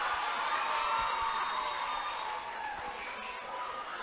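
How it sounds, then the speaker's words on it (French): An audience in a hall applauds two school teams at a quiz match, a steady wash of clapping and crowd noise that fades slightly toward the end. "Applaudissez les 2 écoles, s'il vous plaît."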